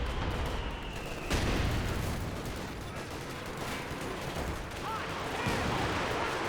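Artillery barrage and gunfire in Company of Heroes 2: dense, continuous battle noise of rattling shots, with a sharp heavy blast early on and further booms rolling through the mix.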